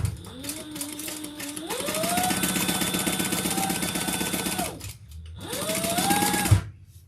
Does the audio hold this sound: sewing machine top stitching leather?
yes